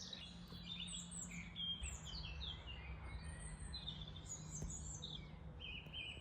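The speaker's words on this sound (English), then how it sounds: "The sound of the song thrush is the equivalent of that for me." A song thrush sings in spring, clear repeated phrases of high notes at a moderate distance over a low steady background hum, with no talking.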